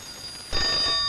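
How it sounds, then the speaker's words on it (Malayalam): A telephone bell starts ringing abruptly halfway through, a bright sustained metallic trill, close and loud, with no voices. "ഫോൺ ബെല്ലടിക്കുന്നത് നിനക്ക് കേട്ടൂടെ എന്റെ കുട്ടി?"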